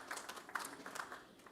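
Faint, thin applause from a small audience at a hospital gathering, a patter of scattered claps lasting just over a second with no voices.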